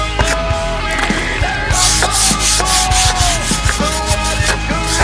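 Something gets a vigorous scrub to lift brown residue and rust, a close, loud rubbing rasp in repeated strokes layered over music.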